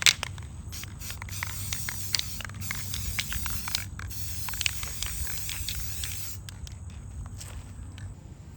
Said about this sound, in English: once that dries, I'll go ahead and spray the other side